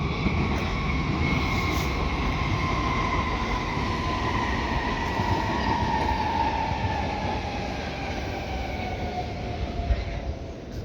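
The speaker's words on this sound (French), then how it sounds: "Et un petit spot sur le métro." A Brussels metro train rolls past with a loud, sustained rumble and a slowly falling whine that fades slightly near the end, with no talking.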